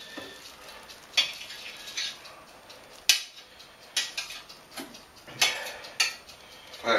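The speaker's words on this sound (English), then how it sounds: "Okay, we'll just stir that through." Chilli sin carne with a whole Trinidad Scorpion Moruga chilli being stirred in a pot, a spoon clinking and scraping against the metal in repeated sharp strokes about once a second over a quiet simmer.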